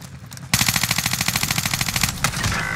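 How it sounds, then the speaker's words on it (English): Rapid automatic gunfire in Call of Duty Warzone on Fortune's Keep, a loud sustained burst of evenly spaced shots lasting about two seconds, then a short pause and a further shot or two. "Oh, I'm getting sniped at from somewhere."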